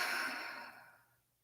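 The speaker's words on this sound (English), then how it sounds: "Exhaling through the mouth." One deep, audible exhale through the mouth during a morning yoga flow, close and breathy, starting strong and tapering off to quiet within about a second.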